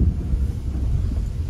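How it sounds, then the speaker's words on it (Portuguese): Strong wind buffeting an outdoor microphone, a steady low rumbling roar with gusty fluctuations throughout, no voices. "tá ventando pra caramba"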